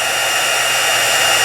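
A heat gun blows hot air over an embossed card, a loud, steady, full-band whoosh that holds constant throughout with no talking.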